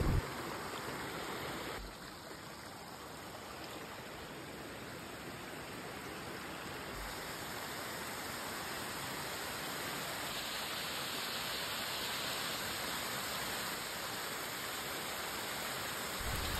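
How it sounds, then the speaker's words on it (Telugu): Water rushes and pours continuously over a check dam near Chelimichenu Waterfalls, Chittoor, in a steady, dense hiss, with no voices. "ఈ వాటర్ సౌండ్ అయితే చాలా బాగుంది వినడానికి"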